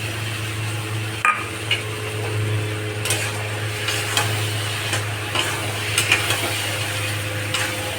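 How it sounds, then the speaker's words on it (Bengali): Potatoes and onions being stirred with poppy seed paste in a pan for aloo posto, giving a steady low sizzle with scraping and clinking spatula strokes scattered throughout. "এবার পোস্ত দিয়ে নাড়াচাড়া করব।"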